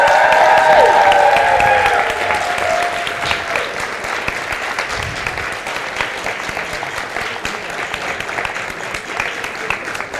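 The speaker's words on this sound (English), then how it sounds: "can we also give a huge round of applause for Flavien as well?" A crowd at an ESN Switzerland national assembly in Lausanne applauds for Flavien, a dense, steady wash of clapping that starts loud with a few whistles and cheers, then settles to a slightly softer, even level throughout.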